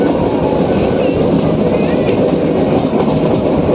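Train running along the Gir Gadhada to Sasan Gir rail line, a loud steady rumble with wheel clatter filling the whole stretch, close and continuous, with a faint voice beneath.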